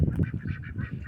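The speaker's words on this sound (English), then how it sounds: "Here's our ducks." Ducks kept on a ranch in spring call out with a brief run of honking, quacking notes, close and fairly loud with several overlapping voices and no talk.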